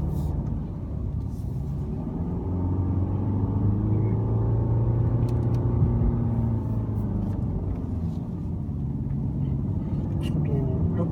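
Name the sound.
Mercedes-Benz C220d diesel engine driving at about 2000 rpm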